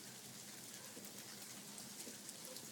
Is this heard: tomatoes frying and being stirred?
no